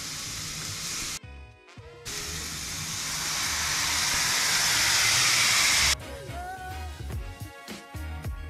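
Honey garlic sauce hits a hot pan beside seared pork tenderloin and garlic and sizzles loudly and up close. The hiss swells for several seconds, then drops back to a quieter bubbling crackle.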